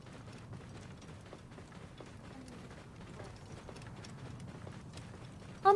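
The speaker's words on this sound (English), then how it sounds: "He's got that stupid camel run that camels have." A camel mount runs in Assassin's Creed Origins, giving quick, rhythmic, fairly quiet hoof thuds in an even gait, ending on a sudden sharper sound.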